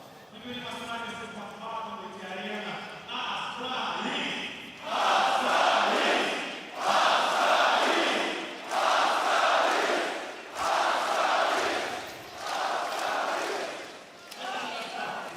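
The crowd at the PGL Astana 2025 Counter-Strike grand final roars and cheers in repeated loud surges, rising and falling every couple of seconds, under a commentator's voice at the start.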